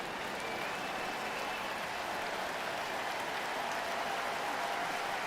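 A sellout baseball stadium crowd gives a sustained ovation, a broad, steady roar of cheering and clapping that holds at an even level throughout with no break.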